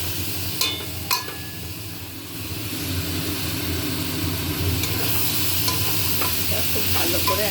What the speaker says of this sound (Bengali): এবারে চালটা দিয়ে কষাবো।